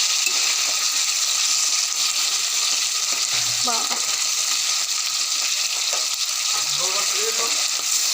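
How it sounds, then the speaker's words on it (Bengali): Fish frying in a pan, with a loud, steady, close sizzle throughout and a couple of brief voice sounds in the background. "মাছটা এবার এদিকটা ভালো করে ভেজে নেব।"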